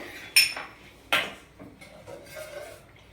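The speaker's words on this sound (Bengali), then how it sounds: "দুধটা আমি একটু একটু দিয়ে মেশাবো" Milk being mixed into banana malpua batter in a bowl, with two sharp utensil clinks against the vessel followed by softer scraping and stirring sounds, quiet and close.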